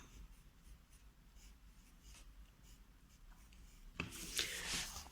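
A pen scratches across paper in soft, steady strokes, then a louder, brighter rustle of paper or scribbling near the end, close by with no talking.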